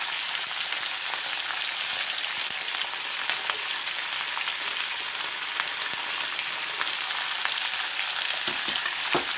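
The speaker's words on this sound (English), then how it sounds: "I've put all the vegetables together. Now I will stir them." Mixed vegetables with peas, broccoli and capsicum frying in a pan, a loud, continuous close sizzle with faint stirring ticks and no voices.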